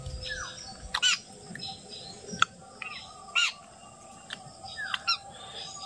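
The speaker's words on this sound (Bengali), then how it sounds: "শালিক পাখিগুলো এখানে ঘোরাঘুরি করছে।" Mynah birds feeding on scattered cooked rice give several short chirps and squawks at moderate distance, spaced irregularly over a low steady background hum.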